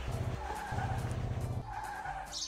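A car in the mobile racing game Turbo Racing 3D brakes hard, its tires skidding in a long rhythmic squeal over a steady engine drone, pausing briefly then skidding again, moderately loud with no talking.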